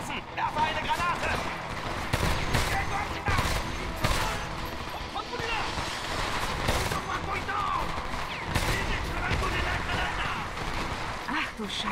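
Continuous gunfire with heavy impacts fills the Homefront video game battle, loud and dense throughout, while German-speaking players talk over the shooting.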